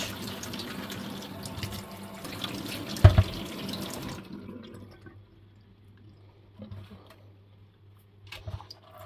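Tap water running through an orchid pot to flush out its reservoir, a steady splashing stream for about four seconds that suddenly stops, followed by faint drips and small knocks.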